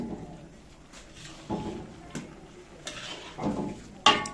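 Cooking pots for a lentil and potato bhaji being set down in an old-age home kitchen in Barisal, giving a few separate metallic clanks and knocks at irregular intervals, the sharpest near the end, over a low room hum.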